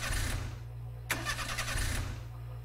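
A broken-down car engine starting in the Mermaid Swamp video game: a short cranking whir, then a sharp catch and a rough idling rumble with steady low hum, close and fairly loud.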